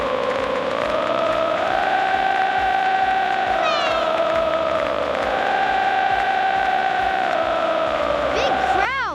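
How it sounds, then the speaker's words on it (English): A big crowd fills a football stadium, a dense, steady roar of many voices going on throughout, with rising whoops and cheers near the end. "Big crowd."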